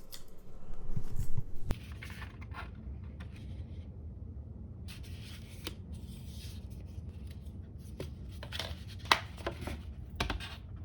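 A knife scoring and slicing through a very thick cardboard box in several passes, with a louder scraping cut at the start, then quieter scratchy strokes and sharp ticks close by.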